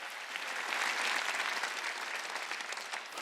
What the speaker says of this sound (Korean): 두 손이게 그게 하나님의 뜻이라고 깨닫는 사람만 박수로 하나님께 영광 돌려요